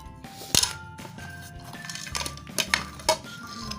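Crushed nimko snack ingredients being mixed in a bowl, with a spoon clinking and scraping against the dish in several sharp, irregular knocks over soft stirring.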